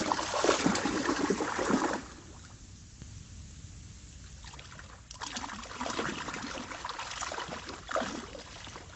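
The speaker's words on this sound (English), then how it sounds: "This is the sound of a shad spawning" Shad spawn at night in the River Severn, bursts of loud splashing and thrashing water close by, separated by a quieter lull of gentle trickling before the churning returns.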